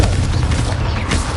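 A Confringo blast spell goes off in the Hogwarts Legacy video game, a dense, loud, sustained explosive roar with a deep rumbling low end and crackling debris that fills the short moment without any break.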